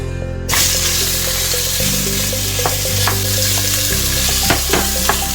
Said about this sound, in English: So I'm just going to brown it first.